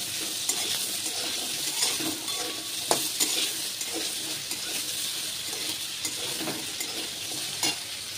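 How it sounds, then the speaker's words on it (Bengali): Chopped potatoes fry in hot oil with cumin seeds in a pan, a steady broadband sizzle running throughout with occasional light scrapes and taps of a stirring utensil; no one speaks. "এবার দিয়ে দেবো আলু কুচানোটা। আলুটা লাল করে ভেজে নেব।"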